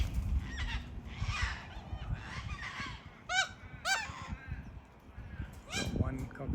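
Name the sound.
cockatoo and corellas calling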